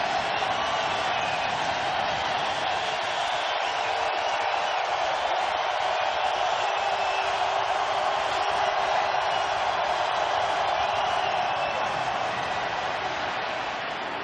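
Stadium crowd noise at a 2008 NFL game between the Tampa Bay Buccaneers and New Orleans Saints in New Orleans, a dense, sustained roar of thousands of fans that stays loud and even throughout.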